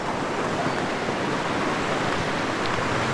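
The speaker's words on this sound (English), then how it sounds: "This is the waterfall here." A waterfall on Don Khone island, Laos, roars as a dense, steady rush of falling water. It is loud and unbroken throughout, with no voices.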